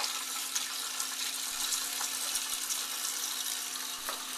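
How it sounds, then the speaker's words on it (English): Tap water runs steadily into a kitchen sink while seafood is being cleaned, a continuous splashing hiss heard close by and alone for the whole stretch. "Turn on some water"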